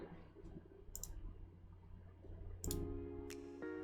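Faint mouse clicks sound while a Google Slides theme is chosen, a few soft, sharp ticks over a low hum, followed by a brief chime-like tone.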